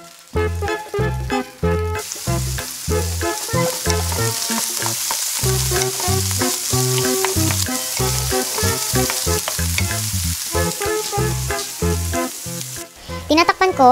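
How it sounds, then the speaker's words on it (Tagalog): Pechay (bok choy) sizzles and crackles steadily as it sautés in a pan, with intermittent stirring and clattering of a utensil against the pan throughout. "Tinatakpan ko, tapos ginigisa-gisa ko, tapos tatakpan ko ulit para maluto yung pechay dun sa steam."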